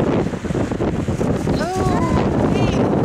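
Blizzard wind during the 2013 Nemo storm roars loudly and continuously against the microphone. A voice sounds briefly partway through.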